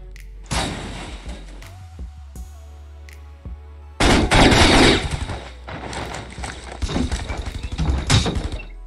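Loud bursts of gunfire in the mobile battle-royale game Rules of Survival, a short volley early, then heavy rapid automatic fire after a pause, with a steady low engine-like hum underneath.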